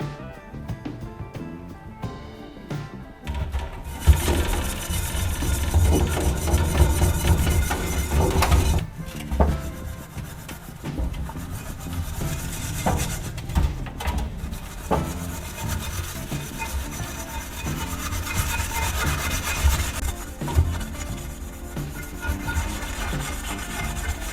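A pan being scrubbed hard with an abrasive pad in a cleanup of charcoal and cola residue, giving steady, close rasping and rubbing strokes that run continuously with brief pauses and no talk.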